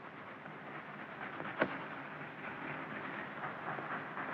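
A broad, steady rumbling roar of a passing train fills the scene, with a single sharp clank partway through.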